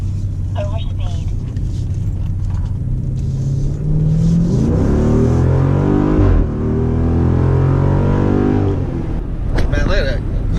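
A 2016 Jeep Grand Cherokee SRT and a 2018 Dodge Durango SRT accelerating side by side from 0 to 60, loud engine roar rising and sweeping upward in pitch, with a person talking over it and an excited voice near the end.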